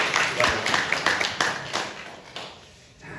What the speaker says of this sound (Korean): 우리 찬양대를 위해서 다시 한번 박수 한번 주시죠.